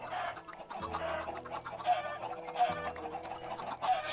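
Chickens clucking in the Minecraft video game, several short repeated clucks over steady background game music, close and clear with no talking.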